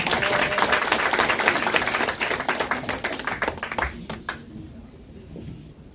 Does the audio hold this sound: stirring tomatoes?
no